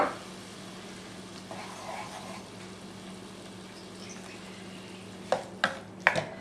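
Butter melts with a couple tablespoons of olive oil in a pan for pasta primavera, a faint low sizzle over a background hum, followed by a few sharp utensil clinks against the pan near the end.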